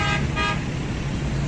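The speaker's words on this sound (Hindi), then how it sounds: "ये सामने जा रहा है वज़ीराबाद सियालकोट जीटी रोड, और ट्रैफिक इसके ऊपर रवां दवा है।" Steady road traffic on the Wazirabad–Sialkot GT Road rumbles continuously nearby, with a short double car-horn toot near the start over the constant vehicle noise.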